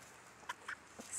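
A few soft, brief clucks from a Leghorn chicken, spaced apart and fairly faint against a quiet background.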